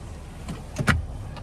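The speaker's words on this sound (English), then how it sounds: "And then you can just hit this to fold the seat flat." A 2026 Lincoln Aviator Premiere II power rear seat folds flat with a short electric motor whir and a couple of soft mechanical clunks, close and fairly quiet, with no talking.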